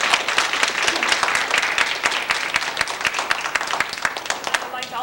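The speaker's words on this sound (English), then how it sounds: "Let's give them one more round of applause" Audience applause for panelists at a women in technology conference, a dense, steady wash of many hands clapping close and loud across the whole stretch, with voices faintly mixed in.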